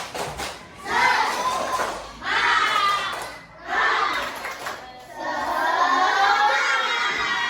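Schoolchildren in an Indonesian classroom chant and shout together in a spirit clap routine, with four loud rhythmic bursts of massed young voices separated by brief dips.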